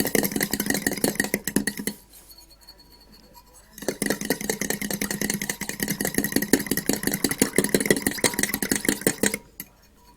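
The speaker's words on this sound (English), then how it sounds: "so from the sides and just stir it" Scrambled eggs being stirred in a pan, made Parsi style, with a busy mid-level scraping and stirring texture that drops out briefly and then resumes steadily. The sound is close and fairly loud, with no voice over it.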